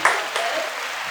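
Brief audience clapping greets a guest introduced on stage, a short burst of scattered claps over roughly a second at moderate loudness.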